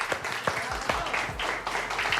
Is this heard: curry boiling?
no